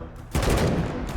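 A powerful turret in the video game Wasteland 3 fires a burst of gunfire, a rapid, loud clatter that starts abruptly after a brief quieter moment and keeps going close up.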